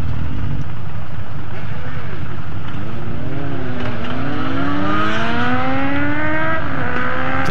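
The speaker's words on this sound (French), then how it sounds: "on passe les premières vitesses, ça fait clac clac clac clac, ça fait vraiment joli" Several motorcycle engines, including a Royal Enfield Interceptor 650, rise in pitch together, each sweeping upward through the first gears with brief drops and clacks between shifts, loud and continuous with a low rumble underneath.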